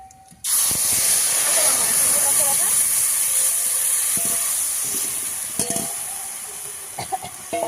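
Ginger, cumin, onion, garlic and green chili pastes hit hot oil in a pan for a Bengali meat curry, bursting into a loud, steady hiss and sizzle that fades slightly, with a few clinks of stirring near the end.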